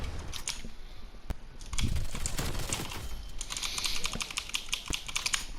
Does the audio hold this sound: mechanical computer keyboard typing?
yes